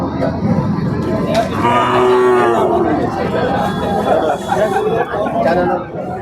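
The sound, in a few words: calves mooing at cattle market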